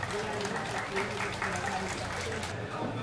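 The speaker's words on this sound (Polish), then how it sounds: "Wielkie brawa dla Janusza." Audience applause for Janusz, third-place winner of a poetry contest about Podhale poets, a steady dense patter of clapping with voices mixed in underneath.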